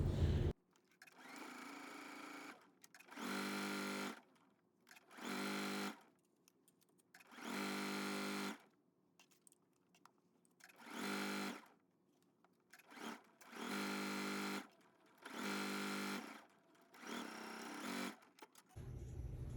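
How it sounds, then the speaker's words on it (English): A sewing machine runs in repeated bursts of a few seconds each, whirring steadily with brief quiet pauses between stitching runs. "Take this to your sewing machine and sew it at 5/8."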